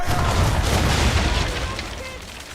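Ship cannon fire in the video game Assassin's Creed 3, a loud sustained rolling boom of several guns blending together and fading over about two seconds.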